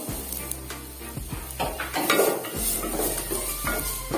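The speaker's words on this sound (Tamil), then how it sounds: "வெங்காயம் நல்லா வதங்கட்டும்" Small shallots sauté in a pan for agathi keerai soup, with a low sizzle under repeated spoon scrapes and clinks against the metal pan at close range.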